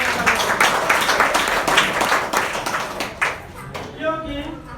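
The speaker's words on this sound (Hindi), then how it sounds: "और सर के नाम से जबरदस्त ताली।" An audience at a DXN product meeting in Patna claps together in a steady, fairly loud round of applause for nearly five seconds, with voices mixed in before it thins out near the end.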